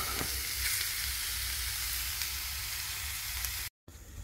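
Meat cooks in a dry pan with no fat, giving a continuous close, even sizzle and hiss that cuts out briefly near the end.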